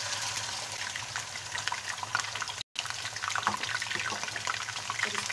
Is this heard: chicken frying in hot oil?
yes